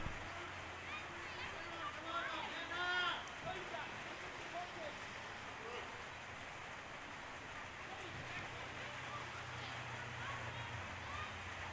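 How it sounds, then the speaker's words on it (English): Steady rain falls on an outdoor football ground during an under-12 boys' junior match, a constant hiss of drops beneath commentary, with shouts and a brief burst of crowd noise early on. "Rain tumbling down."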